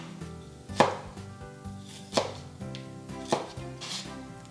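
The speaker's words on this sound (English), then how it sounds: "Just going to chop it up into smaller bits to help the mixer out" Fresh ginger, about an inch, chopped into small bits on a board: three sharp knife strikes land about a second apart, close and crisp, over a quiet background.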